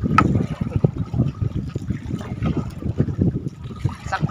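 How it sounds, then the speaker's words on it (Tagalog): Small wooden boat paddled on choppy, windy sea off Masbate, with soft rhythmic water splashes and dribbles from the paddle strokes, close by and fairly quiet, under wind noise and a brief voice. "Sagwan-sagwan lang."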